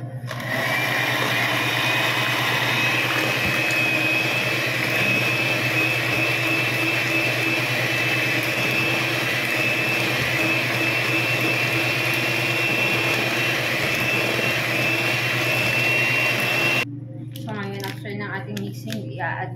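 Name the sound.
electric mixer mixing whipped cream for a dessert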